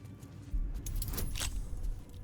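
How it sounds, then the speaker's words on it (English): Lockpicking in the video game Baldur's Gate 3 gives a run of small metallic jangles and clicks, close and fairly steady, over a low rumbling background with no talking. "So I have to just lockpick these,"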